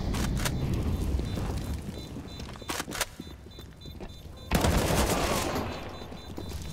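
Gunfire in a CS:GO match at IEM Cologne 2023, sharp bursts of shots and clattering footsteps over a busy game mix, with a louder volley near the end.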